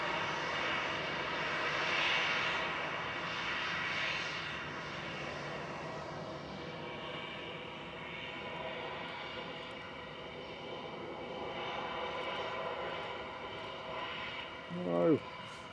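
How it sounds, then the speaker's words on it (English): An SAS Airbus A380 arriving from Stockholm at Manchester Airport is heard as a distant, moderate jet engine rumble and whine, steady over the clip, with voices talking faintly over it. "SAS coming in from Stockholm"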